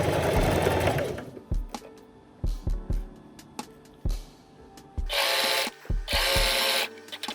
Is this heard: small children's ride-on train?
no